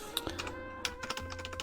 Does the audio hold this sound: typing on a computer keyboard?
yes